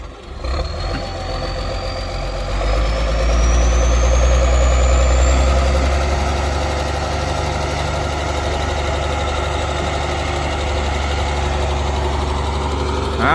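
A Ford 7840 tractor engine labours at low revs while levering out a tree stump, a loud, steady, deep rumble that swells slightly midway and holds throughout.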